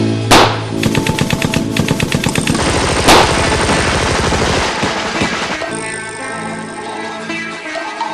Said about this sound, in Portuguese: Em seguida, toda a tropa dispara contra o bando.